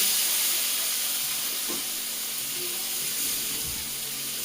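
Fish curry with potatoes and chili powder frying in a pan, giving a steady, even sizzle and hiss with a few soft stirring knocks.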